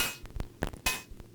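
Metallic, irregular clanks from a Moog Subharmonicon synth patch that mimics a blacksmith or swordsmith hammering, sharp strikes in an uneven rhythm with short ringing decays, close and alone.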